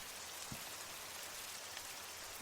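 Steady rain in the Redmorn game world falls as a dense, even hiss throughout, with a couple of soft drop taps, no voices.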